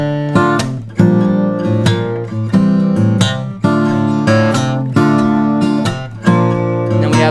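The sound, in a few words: fingerstyle acoustic guitar playing an unplugged intro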